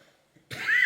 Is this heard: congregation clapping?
no